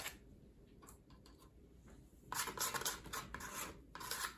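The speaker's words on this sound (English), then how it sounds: "I have a little yellow ochre and I'm just scraping it on there wherever I feel like." Yellow ochre paint is scraped across an art background for a distressed, aged look, giving quiet rasping strokes: a few faint scrapes at first, then denser, louder scraping runs close by.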